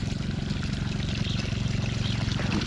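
A weak stream of water flows from a failing irrigation well on an eggplant farm, a steady close trickling and pouring wash with a low rhythmic churn underneath, continuous throughout.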